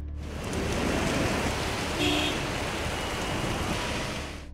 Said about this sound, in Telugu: రాష్ట్ర వ్యాప్తంగా చాలా జిల్లాల్లో బుధవారం ఉదయం నుంచే కుండపోతగా వర్షం కురుస్తోంది.